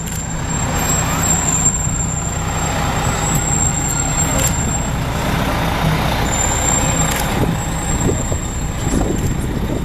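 A Rosenbauer-built fire engine rolls past in a firemen's convention street parade, its steady, loud diesel rumble filling the whole stretch, with faint background voices and traffic noise around it.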